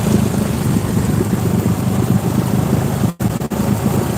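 A Honda ATV on dual tires floats on water, its engine chugging steadily in second gear under heavy wind buffeting, then the sound briefly drops out and returns.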